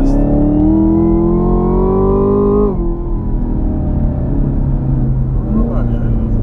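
A car engine revs hard with the pedal held to the floor in Performance Shift Mode, its pitch climbing for a few seconds. It then drops sharply at the shift and settles into a lower, steady loud drone.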